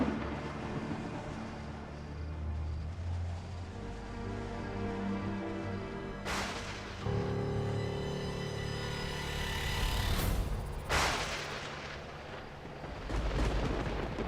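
Deep rumbling booms roll through a dense musical score, with two sharp loud cracks midway, like thunder building before a storm.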